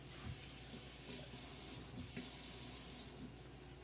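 Water runs from a kitchen tap into a container to rinse out leftover curry seasoning, a steady, faint hissing stream lasting throughout with no speech.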